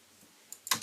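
Keys clicking on a computer keyboard during Rhino CAD jewellery modelling, a faint tap followed by a louder cluster of two or three sharp keystrokes near the end.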